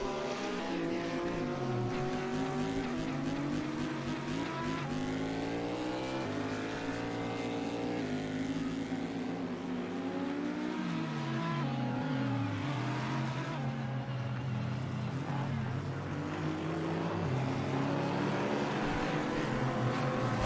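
Race cars at the Daytona 24 Hours, a Cadillac among them, roaring past: several engine notes rising and falling in overlapping sweeps, loud and continuous throughout the clip.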